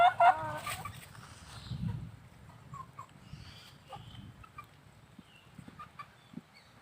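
Chickens, fighting-cock breed, clucking and calling in a coop, with a few sharper calls at the start and softer scattered clucks afterward at moderate distance.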